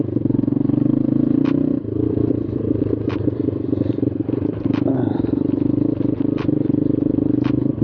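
A motorcycle idles steadily while a phone charges from it, a low continuous engine drone with a few faint clicks and rattles layered over it.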